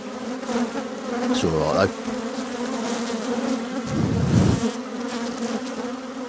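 Agitated honey bees buzz loudly and continuously around an opened hive, a dense close drone. Someone speaks briefly over it.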